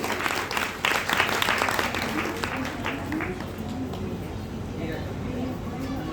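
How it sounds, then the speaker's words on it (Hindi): An audience at a religious discourse gathering applauding for Rajsharan ji, a short round of clapping that swells early then thins, with someone talking over it. "एक ताली बजा देंगे सभी जोर से उनके लिए।"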